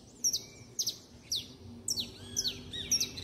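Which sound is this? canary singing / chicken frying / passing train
canary singing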